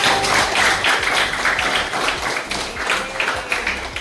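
A fifth-grade class claps for a classmate named Tania during an Indonesian language lesson: dense, continuous clapping from many children close by, steady and fairly loud throughout.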